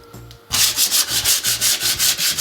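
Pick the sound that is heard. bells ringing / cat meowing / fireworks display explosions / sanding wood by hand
sanding wood by hand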